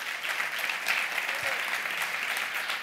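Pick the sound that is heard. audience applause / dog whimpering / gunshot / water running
audience applause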